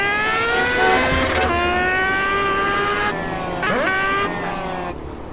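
Fast motorcycle engines in the video game GTA, loud high-pitched revving that climbs and drops in several bursts, with gear-shift pitch changes and sharp rises around the middle, and no talking.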